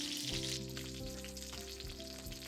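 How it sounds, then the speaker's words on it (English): Chicken pieces frying skin side down in a pan of oil, a loud continuous sizzle and crackle with a steady hiss, heard alone without talk. "I cook the chicken like deep frying."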